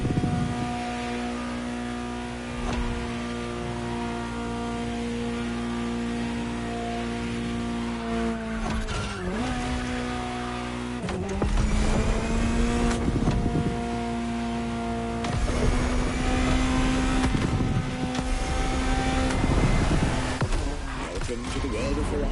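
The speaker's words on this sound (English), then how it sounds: "Just listen to the car you're driving." A Ferrari supercar in The Crew Motorfest drives with a sustained engine tone that shifts pitch as it revs through gears, with brief dips and surges, loud and close, with a voice speaking over parts of it.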